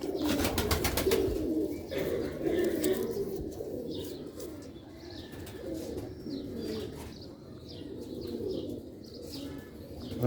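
Sialkoti red-pearl pigeons coo repeatedly in a loft, low throaty calls overlapping in a steady stream with occasional chirps and a soft flutter of wings, close and fairly loud.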